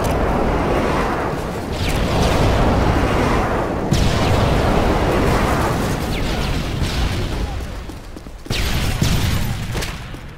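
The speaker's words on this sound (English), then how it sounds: "Friendly airstrike on the way." Airstrike explosions in the video game Call of Duty Modern Warfare 3, a loud rolling barrage of booms and bursts with sharp blasts near the start, middle and end, no talking.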